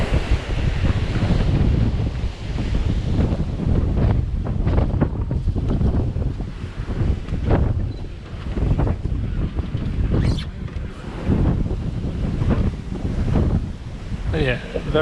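Strong wind buffets the microphone aboard a cruise boat on Milford Sound, loud gusty rumbling that swells and dips throughout, with water and engine noise beneath.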